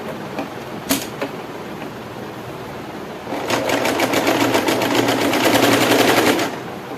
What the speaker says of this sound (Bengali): এই যে ফোল্ডটার ওপর আমি সেলাই করে নিচ্ছি।